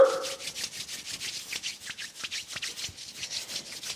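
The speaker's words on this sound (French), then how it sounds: "on frotte les mains" Palms rubbed briskly together in a morning qi gong warm-up, making a steady run of soft, close, whooshing strokes in quick rhythm with no speech.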